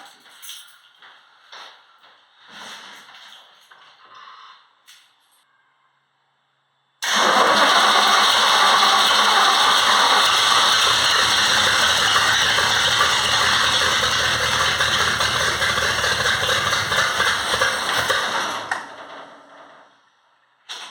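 A 1966 Ford Mustang engine, with both carburetors primed with extra gas and starter fluid, cranks briefly, then catches and runs loud and rough near the microphone for about twelve seconds before shutting off.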